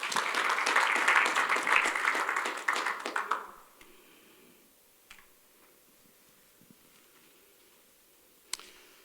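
Church congregation breaking into hearty applause, a thick wash of clapping for about three seconds that thins out and fades into near-quiet room tone, with a couple of stray taps afterward.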